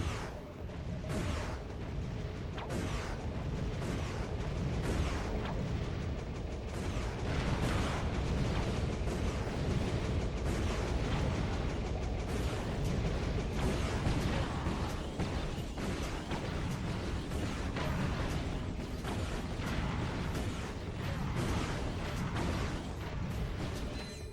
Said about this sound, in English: I think this is a good opportunity to use the mini rockets.